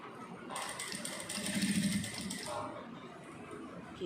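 A sewing machine stitches fabric in a short burst lasting about two seconds, its needle producing a rapid mechanical whir and clatter before it winds down in a quiet room.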